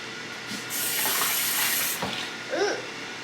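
Tap water runs steadily into a kitchen sink during home meal-kit cooking with a three-year-old, a loud, close hiss that swells for about a second and then eases off, with faint movement around it.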